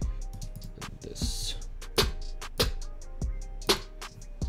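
A snare drum sample from a trap beat remake, pitched down from root key C5 to D5, hits sharply several times in a rhythmic pattern over a busy beat with bass and hats.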